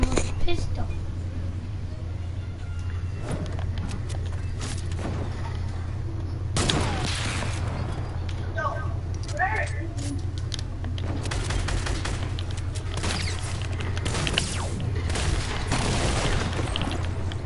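Pistol fire in a Fortnite 1v1 playground match: sharp shots scattered over a steady, busy game background, a few near and distinct among other clatter, while voices talk excitedly throughout.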